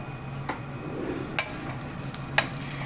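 Coriander seeds and dry red chilies dry-roast in a pan for a rasam spice mix, giving a soft steady crackle with a few light scraping stirs and faint pan clinks, and no talk.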